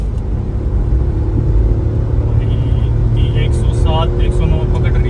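Tata Nexon accelerating hard in a drag race against a Hyundai Creta, a loud steady engine and road roar filling the cabin throughout, with a voice talking over it.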